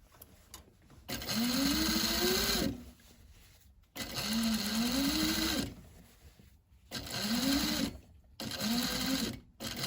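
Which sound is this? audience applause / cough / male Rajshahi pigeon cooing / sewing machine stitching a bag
sewing machine stitching a bag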